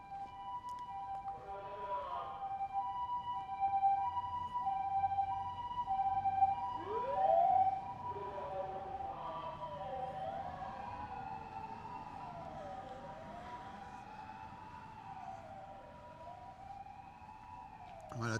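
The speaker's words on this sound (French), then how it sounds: "une ambulance avec le monsieur qui parle." An ambulance siren wails loud and close, its wavering tones sweeping up and down throughout, while a voice speaks over a loudspeaker from the vehicle partway through.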